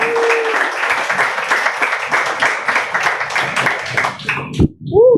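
Audience applause at a startup speaking event, a dense burst of clapping filling several seconds, then tapering off with a few scattered claps and a voice at the end.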